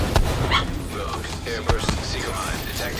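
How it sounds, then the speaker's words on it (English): Several dogs bark and yip in quick excited bursts during a game of Rogue, close and lively, mixed with game effects and someone talking over them. "the dogs are just going crazy for a second"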